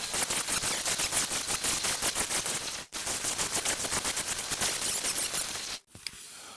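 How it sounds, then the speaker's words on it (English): A grinding tool takes welds off the inside of a repaired alloy wheel, loud rapid rattling bursts in two long runs with brief pauses between them. "So I'll take the welds off the inside now, dress them down, and it'll be good to go."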